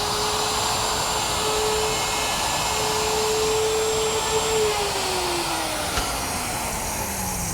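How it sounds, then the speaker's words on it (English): Router with a 1/2-inch straight cutting bit and guide fence grooving wood for a dower chest, a loud, steady, close motor whine whose pitch shifts slightly as the cut progresses. "I'm just using my router with a 1/2-inch straight cutting bit and a guide fence."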